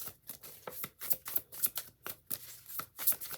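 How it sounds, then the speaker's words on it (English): Tarot and oracle cards are shuffled by hand in quick, rhythmic riffles and soft slaps, about a dozen bursts, close and fairly quiet with no talking. "I'm just going to pull one tarot card and one oracle card."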